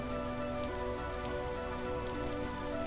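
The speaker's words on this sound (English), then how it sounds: "Sounds like it's raining." Steady rain in the survival game Vintage Story, an even wash of falling drops patter across a surface at low level, with faint tonal hums running underneath and no talking.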